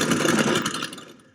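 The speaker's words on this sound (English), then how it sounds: "There's something about that deep throaty note of a big block engine, isn't there?" A V8 big block engine powering a replica propeller aircraft gives a loud, deep throaty roar close by, holding steady for about a second before tailing off.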